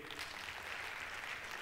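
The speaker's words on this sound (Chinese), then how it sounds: "好，我们给一次掌声欧斯先。" Quiet, steady applause from an audience at a Malaysian insurance agents' closing ceremony, continuous dense clapping at a distance with no break.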